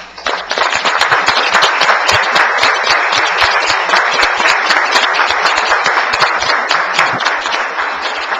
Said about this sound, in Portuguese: passamos uma salva de palmas